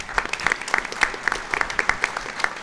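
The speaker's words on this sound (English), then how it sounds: "Let's give him a round of applause." Applause from a town hall audience at a wildfire readiness panel discussion in Monterey, a modest crowd clapping with distinct individual claps audible in an uneven rhythm, close and moderately loud throughout.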